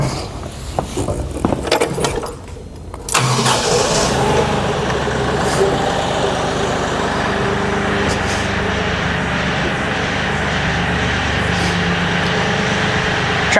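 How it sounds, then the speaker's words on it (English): A heavy diesel engine of a Kioti tractor cranks and catches at about three seconds, then settles into a steady loud rumbling idle close by after some clattering. "Tractor's on"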